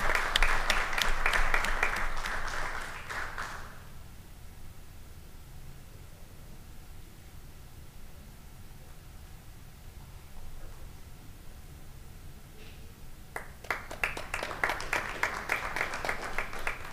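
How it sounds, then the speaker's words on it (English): Audience applause at a school board meeting fills the room in two bursts, a strong round at the start and another near the end, separated by a long stretch of quiet room noise. "Please join me in applauding them for their hard work, dedication, and inspiring perseverance."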